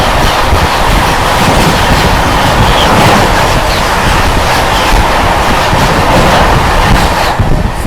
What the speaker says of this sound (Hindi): सामने से आ रही है जोगबनी आनंद विहार सीमांचल एक्सप्रेस